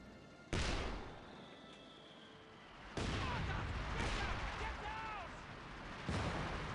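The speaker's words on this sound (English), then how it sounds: "The Soviet mortar is receiving some counter fire" Mortar rounds land as counter fire on a Soviet mortar position in Company of Heroes 2, several heavy booms with rumbling tails, mixed with battle noise and a faint voice.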